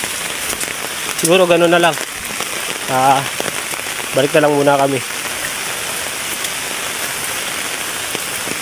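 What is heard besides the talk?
rain falling on a mountain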